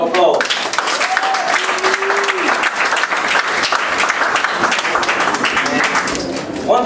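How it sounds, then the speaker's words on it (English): Sustained crowd applause at a street press conference for a grand opening on Martin Luther King Avenue, dense steady clapping with some cheering voices throughout. "Give them another round of applause."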